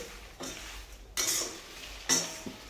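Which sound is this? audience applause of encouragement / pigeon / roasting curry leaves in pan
roasting curry leaves in pan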